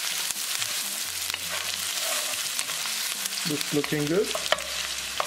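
Garlic, ginger and green chili stir-fried in a pan: a continuous sizzle with scraping stirs and clinks, and a person briefly speaks over it.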